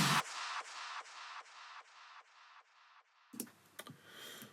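A big snare drum sample in a music production: one loud, sharp hit at the start with a long tail of fading repeats, then a few softer, scattered clicks near the end.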